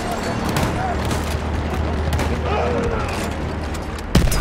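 Trench gun fire in the World War I shooter Battlefield 1: scattered blasts and booms over steady battle noise, closing with one sharp, loud shot near the end.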